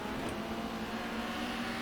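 A race car engine in the GTR 2 racing game, at the start of a 1994 BTCC race at Donington Park, gives a steady, loud, droning hum held at fairly constant revs.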